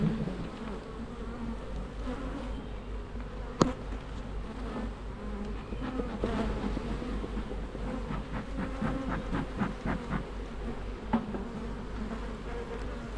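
Honey bees hum steadily at an open hive where comb is being drawn out on foundation, a close, continuous buzz with a few sharp knocks and clicks, no talking.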